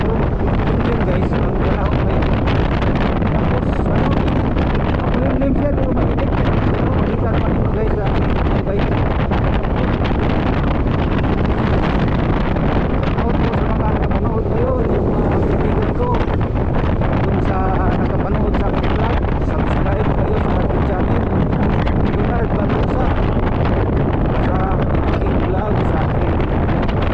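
Strong wind roars across the microphone during a highway ride along a beach, a loud, constant rushing buffet that runs without a break from start to finish.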